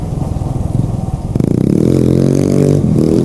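Scooter engine revving hard and holding a steady high drone as the rider lifts into a long wheelie, loud and close after a rougher idling start, with a brief dip near the end.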